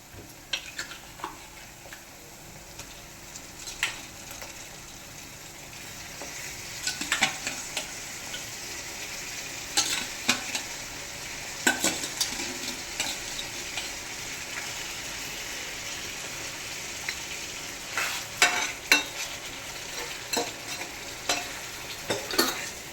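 Marinated chicken with slit green chillies fries in a pan, a steady sizzling hiss running throughout with intermittent spoon scrapes and clinks of stirring, fairly close and unaccompanied by talk.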